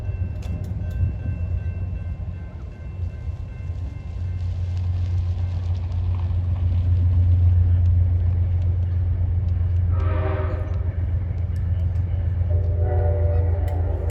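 A Metro-North Hudson Line train rumbles past close by with a steady low roar, its horn, similar to a Canadian M3H horn, sounding in blasts near the end.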